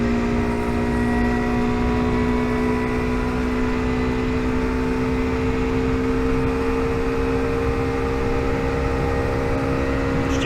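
Steady drone of a motorcycle engine while riding at an even, gentle pace, with a constant hum and strong tonal whine, close and loud, no voices.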